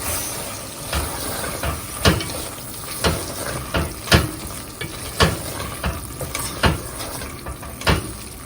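Okra curry being stirred as it fries in a pan, a steady sizzle with regular sharp scraping strokes of the spoon roughly once a second, close and clear.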